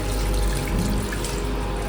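Steady rushing water runs continuously in a Vande Bharat Express train bathroom, a dense broadband flow with a low rumble beneath it and no voices.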